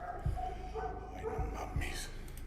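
A dog barks a few sharp times, about three quick bursts spread across a couple of seconds, close by and under steady background noise and people talking.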